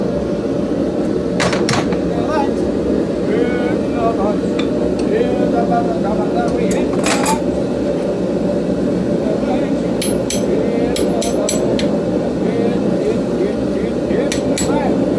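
A hammer strikes a chisel into hot forged steel held in a vise, giving scattered sharp metallic hits over a constant loud roar.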